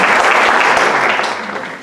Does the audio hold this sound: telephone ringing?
no